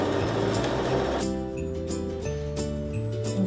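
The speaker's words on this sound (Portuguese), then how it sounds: "Agora eu vou passar uma costura na parte de dentro." A sewing machine stitches a seam along the inside of fabric for a portable crib nest, a rapid mechanical ticking and whirring heard close, partly under background music.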